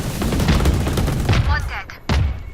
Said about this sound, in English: I shot somebody.